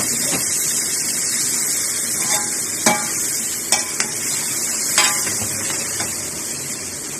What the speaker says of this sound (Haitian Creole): mwen kite waman fri. Apre sa mwen ajoute kokoye.